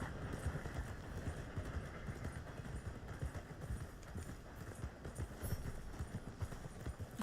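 A horse's hooves clip-clop steadily along in the Red Dead Redemption 2 game world, with a dense, rapid, close rhythm under a constant low rumble throughout.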